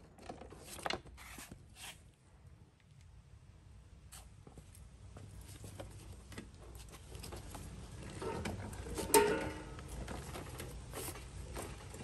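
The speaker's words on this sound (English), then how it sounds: "I'm gonna remove this belt." Someone works a half-inch wrench to pull the belt off a residential 30-inch Toro Timemaster mower: quiet, sparse ratcheting clicks and metallic taps, growing slightly busier toward the end, with no talking.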